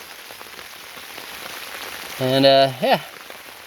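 Steady rain falls on a garden, a soft even patter throughout, with a voice briefly speaking over it near the end.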